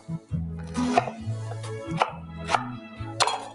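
A kitchen knife chops cabbage on a cutting board for a chickpea and cabbage stew, giving a handful of sharp, close chops spaced irregularly about half a second apart. Low steady hum sits underneath, with no talk.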